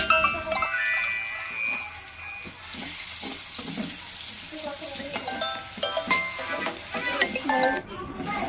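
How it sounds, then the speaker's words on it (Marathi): Garlic and cumin seeds frying in hot oil for a palak paneer tempering, a steady sizzle with stirring scrapes and clinks throughout, fairly close and moderately loud, with a brief splash of water near the end. "तेलामध्ये चांगलं फ्राय होईल, नाही तर कच्ची फोडणी लागेल"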